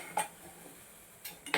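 A metal vessel is set down for straining melted jaggery syrup in a home kitchen, giving a couple of short clanks and taps separated by a quiet pause, close and moderately soft with no talking.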